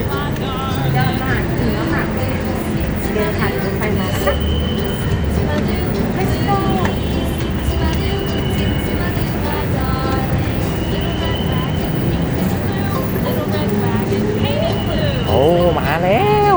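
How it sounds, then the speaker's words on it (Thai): A Bangkok Gold Line rubber-tyred skytrain pulls into Charoen Nakhon station with a steady rolling rumble and squealing tones, while adults and someone talk nearby on the platform. "รถไฟจะมาแล้วเป็นรถไฟรางเลย"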